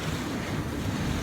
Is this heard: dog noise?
no